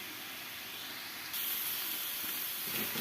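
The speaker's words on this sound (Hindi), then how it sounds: "इसलिए पहले इसको हम थोड़ा सा फ्राई करेंगे, ताकि एक तो गाजर सारी गर्म हो जाए" Grated carrots fry in oil and ghee in a pan for carrot halwa, giving a steady, close hiss of sizzling that grows a little louder and brighter partway through and holds without talk.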